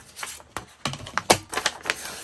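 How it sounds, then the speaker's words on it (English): Paper is trimmed close up to remove its white edge, giving a quick string of crisp clicks and snips in an uneven rhythm, with no talking. "Let's trim the white off first"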